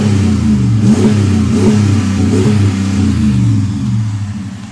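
The 5.7L Hemi V8 of a 2019 Ram 1500 Laramie Sport crew cab 2WD revs up close and loud, a deep rumbling engine rising and falling in a few throttle blips over nearly five seconds, with no talking.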